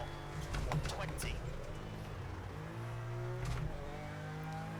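A Toyota rally car's engine drones and revs steadily in the EA WRC racing game, a continuous mid-level motor tone with small pitch shifts, and a voice speaks briefly over it.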